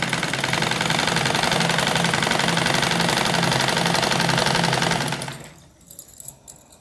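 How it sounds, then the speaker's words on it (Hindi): Sewing machine stitching the seat of palazzo pants, a loud steady rapid mechanical whir that runs continuously for about five seconds and then stops, leaving faint handling noise. "ये देखिए हम सिलाई लगा लेते हैं।"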